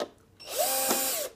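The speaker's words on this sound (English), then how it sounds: "Drill is real nice to have with this replacing the battery." A cordless power drill spins loosening the screws of a hoverboard during a battery replacement, one short whirring burst that rises in pitch, holds briefly, then winds down, close and loud after a quiet start.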